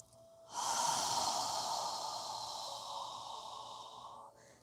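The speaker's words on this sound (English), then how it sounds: "As you exhale, imagine you're fogging a mirror with your breath" One long, steady open-mouthed exhale, a soft breathy haaa like fogging a mirror, close and fairly quiet, starting abruptly and fading out after about four seconds.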